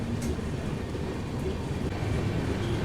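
The Vikramshila Express passenger train runs toward the Jamalpur tunnel, a steady loud low rumble and rattle of rolling wheels heard from inside a 3rd AC coach.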